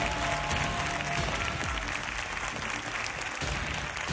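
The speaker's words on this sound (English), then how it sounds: "I know you guys would be the first to lead that applause for them" A large esports crowd applauds a team after a final, a steady dense roar of clapping and cheering heard somewhat distant and muffled, continuous throughout with no clear voices.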